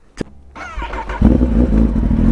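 A motorbike engine starts with a sharp click, then catches and runs up into a loud, close idle, settling into a steady throaty rumble.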